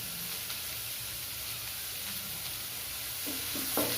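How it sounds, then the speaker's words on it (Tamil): Ginger garlic paste sizzles steadily in a frying pan with a constant hiss, and occasional soft scraping from stirring shows up near the end. "இஞ்சி பூண்டு பேஸ்ட் போட்டதுக்கு அதை மிக்ஸ் பண்ணிகிட்டே இருங்க, இல்லைன்னா அது அடியில் பாத்திரத்தில் பிடிச்சிரும்"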